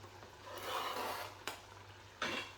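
Chopped onion tipped into a cottage pie cooking pot, a quiet rasping rub followed by two short scraping hits near the end.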